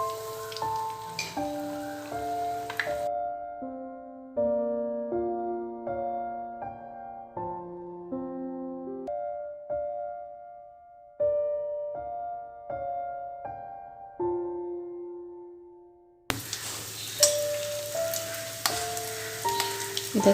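Rava sweet pieces sizzle and crackle in hot frying oil, a steady close hiss heard at the start and again at the end, with a melodic musical tune playing throughout.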